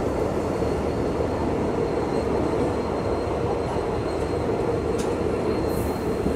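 Steady rail noise in a train yard at Nanded, where the Raja Rani Express stands for washing, heard from a passenger train on the Parbhani to Nanded line: a continuous loud rumble with faint high squeals, and no talk.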